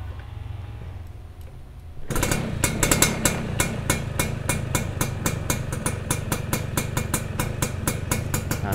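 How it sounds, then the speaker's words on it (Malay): A motorcycle engine starts after a quiet low rumble and settles into a steady idle with a fast, even popping beat, close and fairly loud. "Korang dengar bunyi motor ni."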